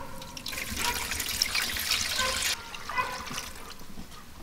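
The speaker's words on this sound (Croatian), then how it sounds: "Nalit ću malo vode kako bi zadržao vlažnost u peći." Water poured into a village oven roasting large beef ribs, a splashing, hissing pour lasting a couple of seconds, then a second softer burst, close by with no talk.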